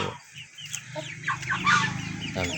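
Rhode Island White cross White Leghorn chickens cluck and murmur close by in a backyard flock, with overlapping short calls and a few higher squawks.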